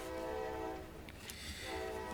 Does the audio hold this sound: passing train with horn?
yes